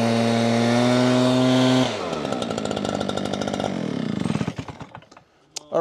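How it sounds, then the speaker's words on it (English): A loud two-stroke gas backpack leaf blower drones steadily at close range, then shifts into rough, sputtering bursts as it revs and idles down. "So now you're probably wondering how loud a gas backpack blower is."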